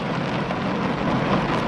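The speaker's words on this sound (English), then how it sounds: "It's rain, like pouring outside." Heavy rain pouring outside, a steady dense hiss of falling water at low, even volume, heard from indoors with no talking.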